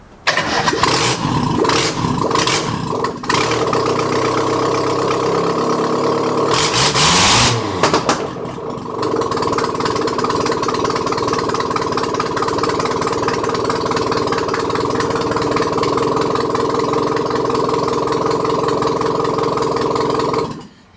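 A 1977 Ford F10 truck engine cranking, then catching and settling into a loud, steady rough idle, close up with a brief surge in the middle and no talk.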